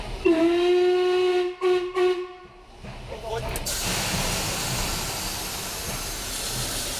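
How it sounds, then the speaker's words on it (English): The express steam locomotive Albatross approaches with a loud sustained whistle that breaks off briefly and sounds again, then gives way to a steady roar of hissing steam and rolling wheels drawing nearer. "The approach of the express steam engine is a visual and acoustic treat."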